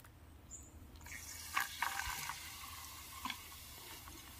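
A very small amount of water poured onto calcium carbide in a cup: a faint, brief trickle starting after a quiet moment, then soft hissing and fizzing with a few light clicks, quiet and close.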